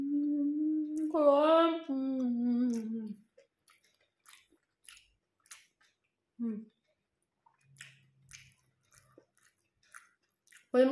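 A bite of homemade siomai being chewed: soft, scattered wet mouth clicks and squishes, quiet and close, following a stretch of talking.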